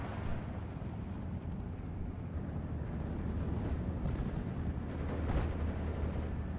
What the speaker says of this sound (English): You got a rocket strafe coming on in with a air superiority fighter for escort